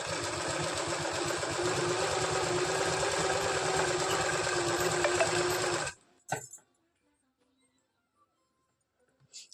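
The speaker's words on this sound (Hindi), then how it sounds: "मैं यहाँ पर इसको इस तरह से फोल्ड करके यहाँ पर सिलाई लगाना स्टार्ट करूँगी एक पैर की सिलाई से" A sewing machine runs a steady stitch along folded fabric to form a cord, loud and continuous for about six seconds, then stops abruptly, leaving a few faint handling clicks and near silence.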